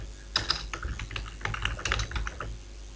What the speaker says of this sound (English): In this name field we can type a name.